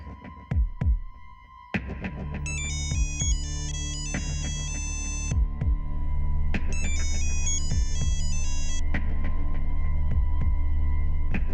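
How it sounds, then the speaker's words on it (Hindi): A phone rings during an outgoing call, a steady repeating electronic ringtone with short melodic bursts over a low throbbing hum, fairly loud and alone with no talk. "फोन करती हूँ।"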